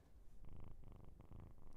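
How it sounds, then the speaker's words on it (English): A cat purring up close: soft, rumbling pulses in a steady in-and-out rhythm, three or four breaths of purr heard alone and quietly. "Hear the purrs?"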